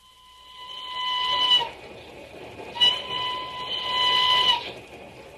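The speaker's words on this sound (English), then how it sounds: "Oh, Dizzy, it's just this stuffy old train." A radio-drama sound effect of a train running steadily, its rumble overlaid by several drawn-out whistle blasts that rise and fade, with no talking.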